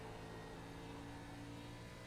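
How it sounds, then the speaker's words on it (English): A NASCAR Xfinity race car engine in a racing video game at Indianapolis Motor Speedway drones steadily, a dense continuous roar without breaks. "you hear the engine and what it's doing"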